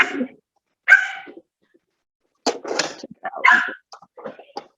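Dogs playing indoors, with short bursts of barks, yips and whimpers separated by pauses, moderately close and fairly loud, with no talking.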